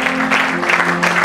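A church convention audience claps loudly and continuously in a dense, steady wash of applause with a faint tonal hum beneath.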